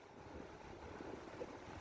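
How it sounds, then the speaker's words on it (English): Large sea waves and surf in Jamaica after Hurricane Melissa, washing far up onto land, heard as a continuous faint rushing wash mixed with wind noise on the microphone. "Look at that. Look at those waves."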